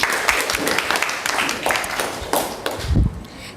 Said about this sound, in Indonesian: Tepuk tangan untuk Angel.